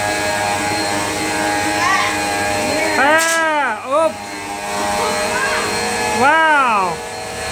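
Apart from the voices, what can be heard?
vacuum cleaner running on the floor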